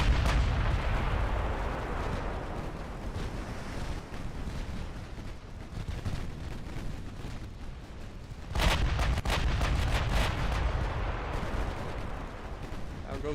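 Battleship naval gunfire in the Ultimate Admiral Dreadnoughts game pounds without letup, loud, dense and continuous booming, with a heavier cluster of salvos partway through.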